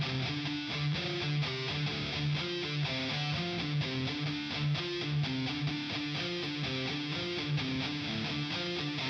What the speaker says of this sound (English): you want to start with the palm muting, and then you want to peel your hand off a little bit so you can let it swell up